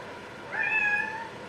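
A house cat gives one short, clear meow close by, rising and falling in a quiet room.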